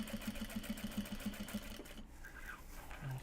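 A home sewing machine winds a white bobbin in a short, steady mechanical whir. A quick rhythmic ticking runs under it at first, and the motor hum shifts near the end.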